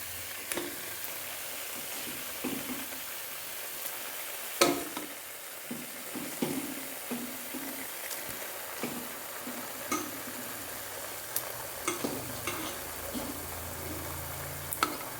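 Two chicken legs frying in a pan, giving a steady close sizzle with occasional light clicks and scrapes from stirring, with no voices.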